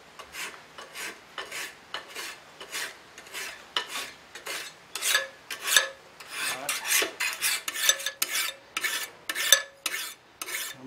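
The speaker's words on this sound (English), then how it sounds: "You get more out of each stroke of the file as well." A hand file rasps across a forged steel letter opener in repeated strokes, a steady rhythmic scraping that quickens toward the end, close and loud with no talking.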